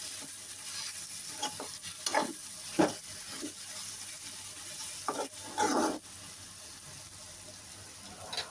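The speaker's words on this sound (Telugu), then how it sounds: "కారం పచ్చివాసన పోయే వరకు వేయించుకుందాం" Chili powder fries in hot oil in a pan for an eggplant and dried shrimp curry, a soft steady sizzle broken by several sharp scraping stirs of a spoon, with no talk.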